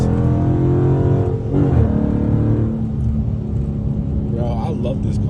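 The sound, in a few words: Dodge SRT Scat Pack car engine revving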